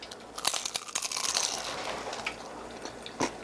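Someone bites into a hot, crunchy, cheesy Manchurian taco, giving close, crisp crackling crunches that come in a quick cluster and then settle into softer chewing, with no talking.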